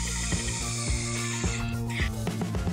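3/4 Tech screws being driven with a square drive bit to fasten a picket rail to a post, a close, loud ratcheting whir with rhythmic clicks repeating about every half second.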